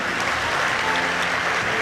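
A crowd at a comedy speech in Washim bursts into dense, sustained applause, a loud, even wash of many hands clapping at once with no gaps.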